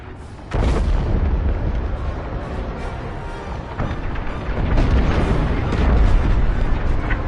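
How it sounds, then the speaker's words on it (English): A frigate exploding in the video game Star Wars: Squadrons: a sustained roar of deep booms and crackling blasts that swells toward the end, loud and close, with little talk. "The frigate is about to explode."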